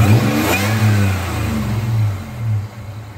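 A supercharged 3.4L TRD 5VZ-FE V6 revs loudly and close, the engine note rising and falling through a few throttle blips over a steady rumble.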